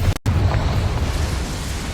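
A Confringo spell explodes in Hogwarts Legacy with a sharp, loud burst near the start, followed by a sustained rumbling roar that lasts until the end.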